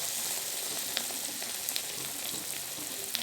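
Lentil fritters (garelu) frying in hot oil, a steady close sizzle with scattered pops and crackles running throughout, heard alone with no talk.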